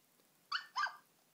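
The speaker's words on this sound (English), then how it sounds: "I love her bark." A grey beagle in a video game gives two quick, fairly close barks in a row against near silence.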